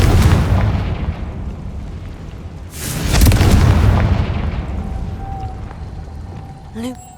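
Confringo fire spell explosions in the video game Hogwarts Legacy: a loud booming blast at the start, a second heavy burst around the middle with a long rumbling tail, then a small pop near the end, with a brief voice under it.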